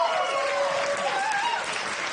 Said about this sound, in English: also give me a round of applause